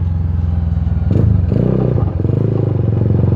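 A Bajaj Pulsar custom flat-track motorcycle being ridden, its engine running steadily throughout with a rough, throbbing idle-to-throttle note and a brief rising rev in the middle, loud and close with no talking.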